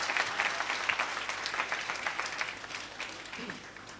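Steady audience applause from a large crowd at a religious pilgrimage gathering in a parish, dense and continuous throughout at moderate volume, with a voice faintly underneath.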